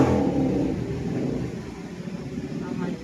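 A Bajaj NS200 motorcycle engine running steadily on a test ride in Lucena, a bike that had fallen and had a cooling fan that stopped working, with a mid-pitched drone easing slightly under nearby talk.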